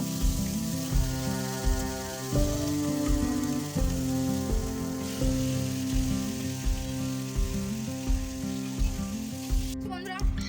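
Paneer navratna curry simmers in a pan with the paneer just added, giving a steady, soft sizzle and bubbling beneath a continuous musical backing with a rhythmic beat.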